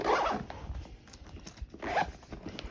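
Zipper on the back compartment of a The North Face Base Camp Voyager 26L daypack being pulled in two quick close strokes, a short rasping zip near the start and another around the two-second mark.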